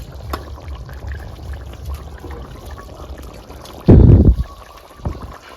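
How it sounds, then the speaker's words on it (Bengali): Pieces of rohu fish dropped into a pot of boiled potato and kohlrabi, giving a single short, loud splashing slosh midway, followed by a faint drip, over quiet kitchen background noise. "এবারে আমি এখানে দেবো মাছ।"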